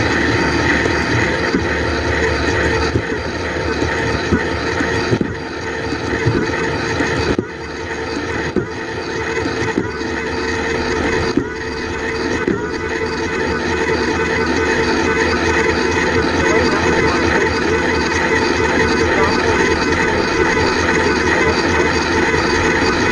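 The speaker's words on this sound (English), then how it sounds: "I'll shift through the gears while the bike is at full throttle, and then we'll end up on the 13 tooth" Luna Cycle X-1 Ludicrous electric bike held at full throttle while shifting through its gears, a loud steady whining drive with wind rush and several brief dips in level as each gear changes, no talk.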